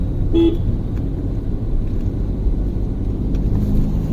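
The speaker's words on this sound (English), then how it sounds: "There is a wee bit of sporty engine noise." A Ford EcoSport automatic compact SUV engine rumbles low and steady from inside the cabin while accelerating, with a short horn toot near the start.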